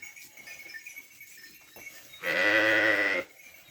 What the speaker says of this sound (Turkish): Babası Vatbiles kuzularımız. Erkek kuzumuz.